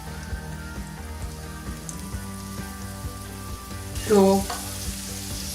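Raisins fry in hot oil over a medium-low flame, giving a soft, continuous sizzle with faint popping, and a brief spoken word cuts in near the end.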